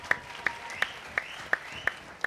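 Regular sharp claps spaced about a third of a second apart, a steady slow rhythm rather than a full crowd roar, greeting Metin as he walks onto the stage at a Turkish Popstar singing competition.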